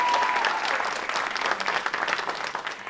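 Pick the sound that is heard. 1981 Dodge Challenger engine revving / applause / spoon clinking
applause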